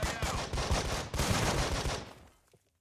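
Rapid bursts of automatic gunfire in the tactical shooter Breach & Clear during a Mexico terrorist-hunt mission, loud and dense for about two seconds before cutting off into near silence.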